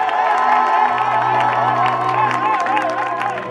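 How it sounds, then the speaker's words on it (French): A church congregation cheers and acclaims the Lord during a prayer service, a loud, sustained mass of voices with shouts and applause filling the whole moment. "Acclame bien le Seigneur, acclame bien"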